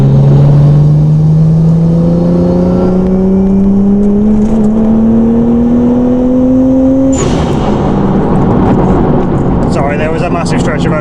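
Nissan Skyline R34 engine accelerating hard on an open road, a loud rising drone climbing steadily in pitch for about seven seconds before a gear change, then pulling again with wind and road roar.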